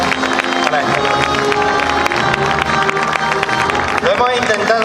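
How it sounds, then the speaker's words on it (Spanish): A crowd claps loudly and cheers for historical re-enactors at a 2018 town re-enactment in Villena, dense applause close by with shouts and voices mixed in throughout. "Les pido un aplauso para ellos."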